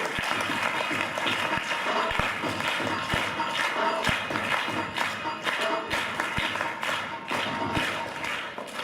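A crowd at a ceremony welcoming journalists gives continuous, dense applause for several seconds, with scattered louder claps and thuds in the mix.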